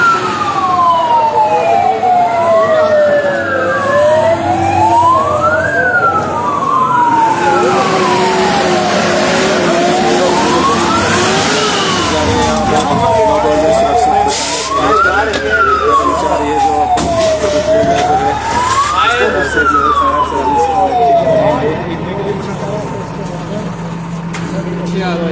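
A fire brigade truck's wailing siren during a mock drill for a bomb-blast alert in Shimla, sweeping up and down in long repeated cycles, loud and close over steady traffic rumble and background voices.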